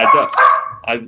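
A female dog barks in short yips close to the microphone, several quick barks running under and between a person's ongoing talk during a live stream.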